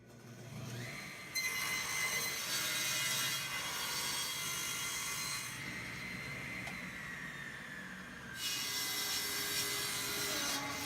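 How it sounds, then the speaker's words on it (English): A table saw fitted with a Forrest Woodworker II blade crosscuts pine on a crosscut sled. The motor hums throughout, and two long, loud, whining cuts rise and fall with a brief quiet gap between them. "Go ahead and start doing some crosscuts now."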